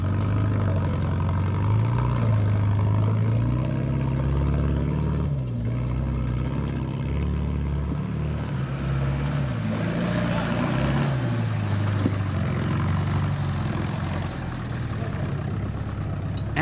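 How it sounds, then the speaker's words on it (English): A vintage Land Rover 4x4 grinds through a rocky obstacle at an off-road club challenge, its engine droning loud and continuous with shifting revs and a low rumble throughout. "And through goes the vintage Landy, quite easily too"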